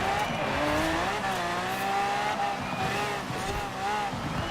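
A rally car in Forza Horizon 4 drives on a mixed track, its engine droning steadily with shifting revs and some tire noise, loud and close for the whole stretch.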